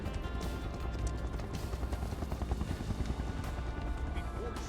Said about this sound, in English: Here's the chopper.